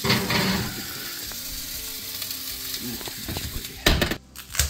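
Chicken searing in a hot pan for a creamy Tuscan chicken pasta, a loud, continuous close sizzle with some stirring noise and a clatter near the end.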